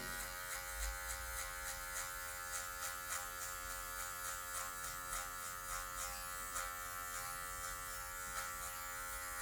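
Electric hair clipper fitted with a number 1 guard steadily buzzing while it cuts dark hair, a continuous close, even drone with slight rhythmic pulses from short strokes, and no talk over it.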